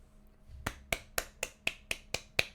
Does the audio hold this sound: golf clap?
yes